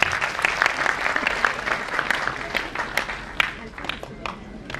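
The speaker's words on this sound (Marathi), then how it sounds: "पुन्हा एकदा टाळ्या होऊ द्या" Guests at the Kokan Sanman award ceremony in 2025 break into sustained applause, a dense, loud patter of clapping from a nearby crowd, with voices mixed in.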